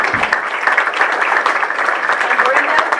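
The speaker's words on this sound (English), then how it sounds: "Let's give a big round of applause to the Senior Center for the wonderful meal." A big round of applause at a Chamber of Commerce luncheon meeting, loud, dense clapping from a room full of people that holds steady throughout.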